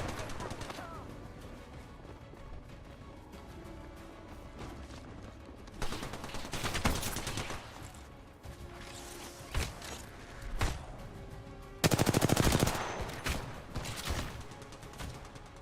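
Gunfire in the video game Apex Legends, with bursts of automatic shots that grow louder and denser toward the end over a steady game background, no voices.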